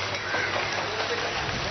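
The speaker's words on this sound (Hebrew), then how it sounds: "יש גשם." Rain falls steadily at a synagogue in Kochi, India, a dense, even hiss of drops on surfaces throughout, with a voice faintly mixed in.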